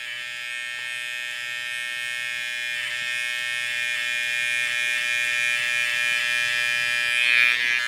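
Electric hair trimmer buzzing steadily while cutting a low fade around the ear in a barbershop, a loud, continuous high whine close up, with no talking.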